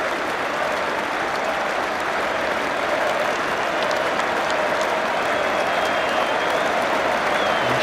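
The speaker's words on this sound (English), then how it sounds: "He should take all the applause." Sustained, dense applause from a large cricket crowd at a 2009 Ashes Test in London, steady and loud throughout, with scattered claps audible in the wash of sound.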